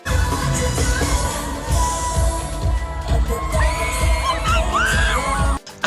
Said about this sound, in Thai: กรี๊ดหูแตกกันเลยทีเดียว